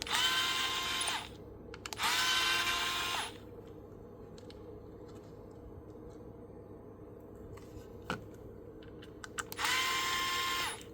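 An electric screwdriver whirs in three loud, sustained bursts of about a second each while removing screws during a teardown of a WILLEN 2 device, with faint handling clicks between runs.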